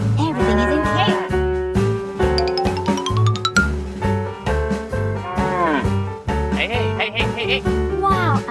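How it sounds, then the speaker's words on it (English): A herd of cows moos repeatedly, overlapping low calls in a rhythmic, close pattern, set against a bright musical melody with chiming tones. "Herd of cows is still dangerous."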